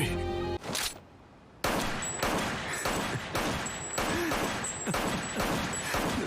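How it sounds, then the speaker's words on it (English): Repeated gunfire from an anime scene rings out as a dense burst of shots in quick succession, loud and close, with a brief lull before the volley resumes and continues steadily to the end. "There's no need to keep shooting a dead body."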